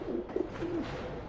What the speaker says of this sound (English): A coop is really just a cage. But the birds don't seem to mind.